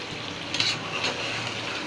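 Potato and eggplant curry stirred in a pan, with a steady close sizzle and soft scraping as the pieces are turned, and no voices.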